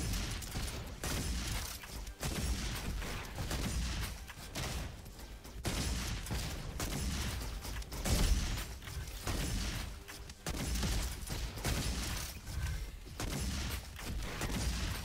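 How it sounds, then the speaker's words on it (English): Turrets firing in the RoboQuest video game, dense rapid bursts of gunfire hammering almost without pause, loud and close, with short gaps between volleys and mechanical clatter mixed in. "These turrets are annoying."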